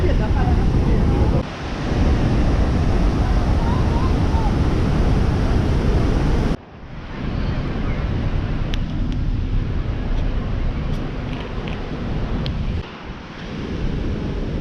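Loud, steady roar of rushing water at the large Iguazu waterfalls fills the whole stretch, broadband and continuous, with a brief dip partway through.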